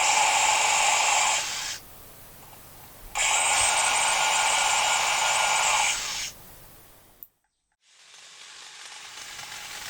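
A STIHL HSA 94 R cordless hedge trimmer buzzes in close bursts, starting and stopping three times as it runs at its different speeds, each run a loud steady electric whir separated by quieter gaps.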